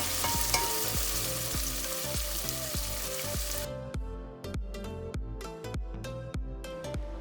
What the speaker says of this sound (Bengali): তেলটা গরম হয়ে গেলে আমরা আমাদের কুচি করা যে পেঁয়াজগুলো আছে এখানে দিয়ে দিব এবং এটাকে আমরা ফ্রাই করব